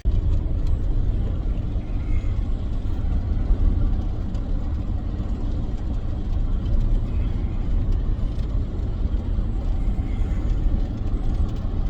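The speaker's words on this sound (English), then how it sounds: "Seems to be riding all right at 45 miles an hour." Steady low road rumble and engine drone from a vehicle cruising at about 45 mph on a test run, continuous and fairly loud from inside, with no talk.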